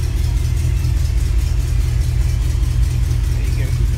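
A 1987 Mercury Cougar's engine idles steadily as the car rolls slowly, a loud continuous low hum with even pulsing and no revving, with a voice talking over it at times.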